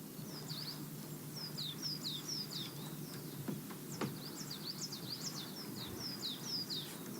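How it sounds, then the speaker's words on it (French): Small birds sing outdoors in a quiet natural setting, with repeated high chirps and twittering phrases over a soft, constant ambient hiss, moderately distant and without speech. "Il y a des oiseaux."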